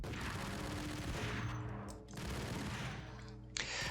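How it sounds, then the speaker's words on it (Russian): A burst of rapid gunfire in Max Payne, dense and loud, with a brief pause before another sharp shot near the end. "мне пришлось его агрить выстрелом"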